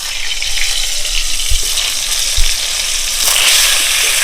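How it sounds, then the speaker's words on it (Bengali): Steady sizzle of pointed gourd frying in mustard oil in a hot pan, continuous and close, with a couple of soft knocks partway through. "পটলগুলোকে আমরা ভেজে নেব।"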